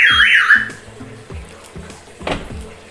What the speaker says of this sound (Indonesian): kalau saya buka paksa seperti ini alarm bunyi ya, ini juga bunyi